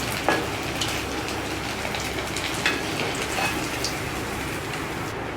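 Mushroom pieces for crispy Mushroom 65 deep-fry in hot oil with a loud, steady, crackling bubbling that continues throughout, with occasional sharper pops.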